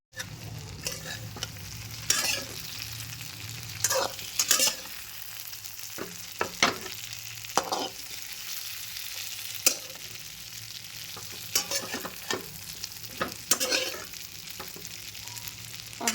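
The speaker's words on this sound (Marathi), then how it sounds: "मिरची शिजत आली की अशी फुटते पहा" Slit green chilies with stuffing fry in a pan, a steady sizzle broken by sharp, scattered pops and crackles over about sixteen seconds, with occasional stirring; no one speaks.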